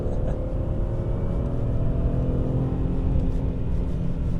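A 1997 BMW M3 E36 with its 3.2-litre engine and SMG gearbox revs hard on a test drive, a loud, steady, close engine drone that holds throughout without a break.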